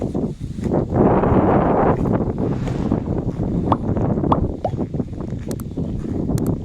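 Strong dry wind sweeps across an open rice field in the dry season, buffeting the microphone in loud rumbling gusts with rustling and scattered knocks, rising and easing throughout.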